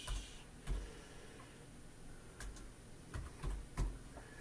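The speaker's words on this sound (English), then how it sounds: "in here you're going to type P7zip" Sparse keystrokes on a computer keyboard arrive as a few faint, separate clicks, some in quick pairs, with quiet stretches between them.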